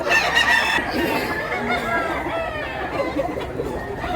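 Chickens at a crowded poultry market in Mantalungon, Cebu, cluck and crow continuously over a busy wash of background chatter, the birds close and fairly loud.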